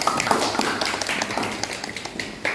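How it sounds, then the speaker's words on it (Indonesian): Classroom group of students clapping for a presenting group, a steady patter of many hands at moderate loudness, fairly close, with no talk over it. "Kita beri aplaus untuk kelompok 1"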